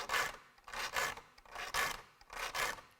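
Filing the teeth of a woodworking handsaw clamped in a vise: four loud, close rasping strokes in an even rhythm, each followed by a short pause.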